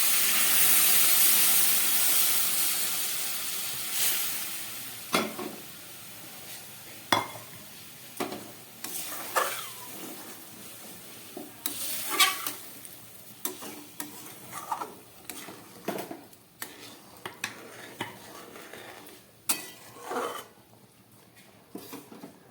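Warm water hits spiced potatoes browned in oil for a Bengali fish curry, bursting into a loud hissing sizzle that settles into a softer bubbling simmer, punctuated by repeated ladle scrapes and clanks against the pot.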